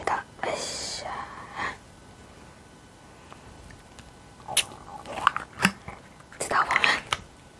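Half-frozen apple mango yogurt drink being opened and eaten, with close, quiet crinkling and slurping bursts plus whispery breaths, loudest in a cluster near the end.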